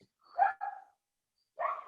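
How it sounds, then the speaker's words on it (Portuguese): A dog barks somewhere off at a distance, one short double bark followed by a pause and then another bark, clear against otherwise silent surroundings. "O meu cachorro tá ouvindo um cachorro latir."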